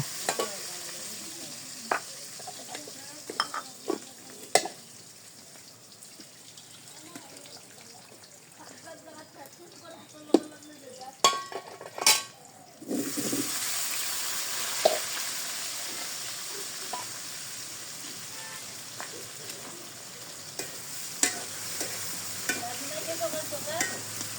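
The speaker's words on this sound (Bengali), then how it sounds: "ফোড়নটা রেডি হলে সিদ্ধ করে রাখা আলুগুলো দিয়ে দেব।" Boiled potatoes tipped into hot cumin tempering and stirred, a low bubbling sizzle with sharp spoon clicks against the pan, then a sudden louder, steady frying hiss for the second half as the potatoes hit the oil.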